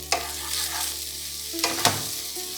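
Green peas tossed into hot oil in a pan for samosa stuffing, a loud sizzle that bursts as they hit, then scraping stirs and a second sharp sizzle surge, with no talking.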